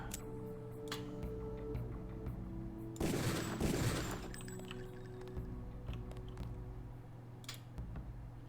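Shooting-range gunfire in Deus Ex: a single loud, noisy burst of shots stands out against a quiet backdrop of steady hum and small ticks, with faint clicks scattered afterward.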